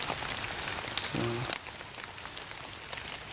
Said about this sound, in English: got caught in the rain,